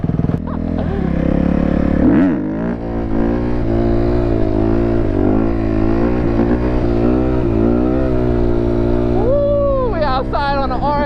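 An RMC dirt bike engine revs loudly up close while being ridden, its pitch climbing and falling in repeated throttle sweeps, with excited shouting voices over it.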